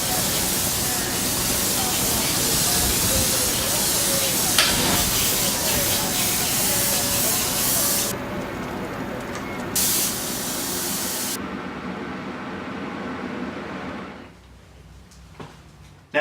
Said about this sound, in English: load some straight transparent yellow into your airbrush and completely cover the entire artwork